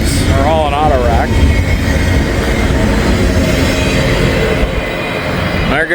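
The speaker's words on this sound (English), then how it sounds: "Norfolk Southern 262 to Chicago." Norfolk Southern freight train 262 bound for Chicago rolls past up close, loud rumbling wheels and squealing rail noise filling the whole stretch, with a voice heard over it.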